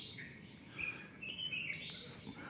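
Birds chirping at dawn, quiet little tweets and short calls scattered over a soft, steady background, faint and somewhat distant.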